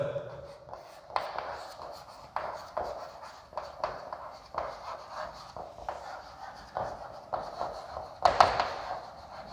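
Chalk or marker strokes on a classroom board as a chemistry definition is written, a steady series of short taps and scrapes, fairly close, with no talk over them.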